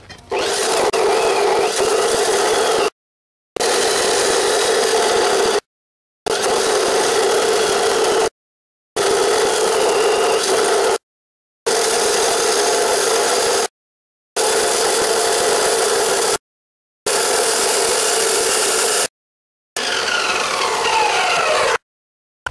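Repeated bursts of a power tool cutting bent metal hay spikes, eight loud sustained cuts of a few seconds each separated by short pauses, close and alone.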